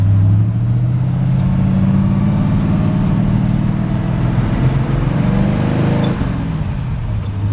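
A 1957 Chevy 3100 pickup with a manual transmission drones steadily from inside the cab as it drives along, a loud continuous rumble with slight shifts in pitch.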